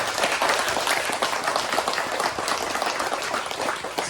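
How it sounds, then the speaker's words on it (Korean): Church congregation applauding during a Christmas worship service, dense sustained clapping from many people filling the room evenly and loudly throughout the whole stretch. "우리 한번 그 주님께 감사와 영광의 박수 올려드리겠습니다"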